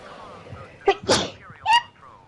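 A single sharp sneeze bursts out close by, split into a quick intake and a forceful release, followed by a brief exhale against faint background noise.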